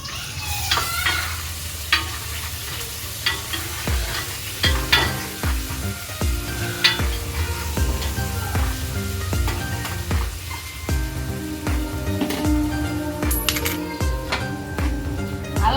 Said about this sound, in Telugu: ఇప్పుడు అల్లం వెల్లిపాయ పేస్ట్ వేయించుకుందాం